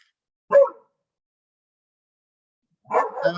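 A dog barks twice during an online webinar, one short bark followed after a pause by a longer burst of barking, fairly close and clear against silence.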